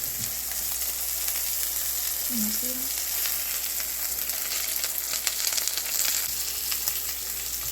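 Sausages fry in a greasy pan with a steady, close sizzle and scattered crackling spatter that holds constant throughout.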